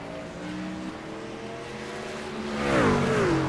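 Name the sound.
race car tires squealing and smoking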